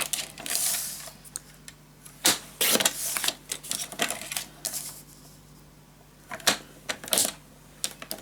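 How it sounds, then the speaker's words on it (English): Paper is cut for a scrapbook album while crafting a storage tower with mini albums. A series of sharp snips and clacks, likely from a paper trimmer or cutter, sounds close and irregular, with brief pauses and no speech. "Alright, let's cut this."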